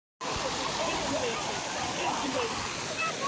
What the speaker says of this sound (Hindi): हम लोग यहाँ आ गए हैं और ये पानी में बच्चे खेल रहे हैं,